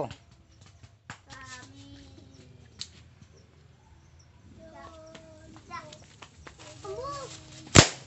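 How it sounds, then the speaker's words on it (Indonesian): Children's voices chatter faintly, then a single sharp, loud pop rings out near the end as a spinning firecracker bursts. "Mercon gangsinya meletus."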